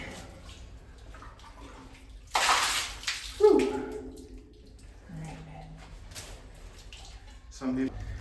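Water splashes and pours out of a boot onto the ground at an old mine, a couple of short sloshing bursts close by with quiet sounds in between.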